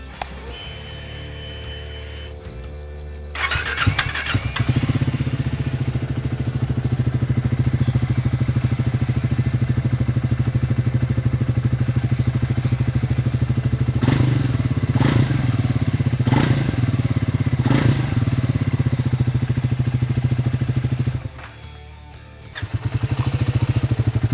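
A 2024 Triumph Speed 400 T4 motorcycle idles at standstill around 1200 RPM with a black satin exhaust, a steady close thumping engine note that starts after a few seconds and holds.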